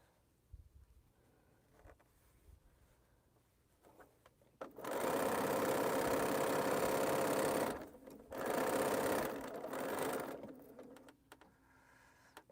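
Sewing machine stitching a quilt backing pieced from leftovers, two loud close bursts of fast whirring with a brief stop between, set against a quiet room before and after.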